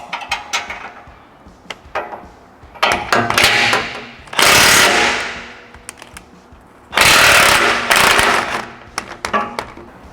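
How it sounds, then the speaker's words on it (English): Suspension bolts on a 2025 Ford coilover and control arm setup are loosened with a 21 mm wrench and a 24 mm socket, heard as loud bursts of power-tool rattling and hammering separated by clicks and quieter metallic clanks. "we're using a 21 millimeter wrench and a 24 millimeter socket on the inside. And we're just gonna loosen them."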